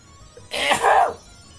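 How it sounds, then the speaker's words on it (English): A single loud sneeze-like burst in a battle game, a sharp onset swelling into a breathy rasp that fades after about half a second, with nothing else around it. "Super sneezing"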